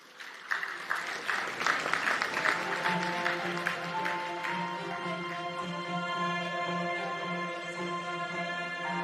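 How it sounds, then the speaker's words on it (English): Audience applauding a speaker at a large conference session on African development, with dense clapping that swells then settles into steady sustained applause, amid hall reverberation and background music-like tones. "Another round of applause for Her Excellency, the CARICOM Secretary General, Dr. Carla Barnett."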